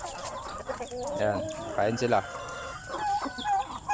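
Backyard chickens cluck and squawk near and loud while eating, with a person speaking over them.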